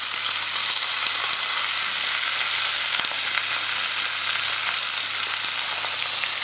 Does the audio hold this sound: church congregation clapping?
no